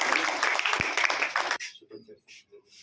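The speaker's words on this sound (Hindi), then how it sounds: "सर के लिए एक बार ताली बजाएंगे" A crowd applauds a speaker at a child-marriage prevention event, a dense burst of clapping that cuts off abruptly, leaving faint voices and murmurs afterward.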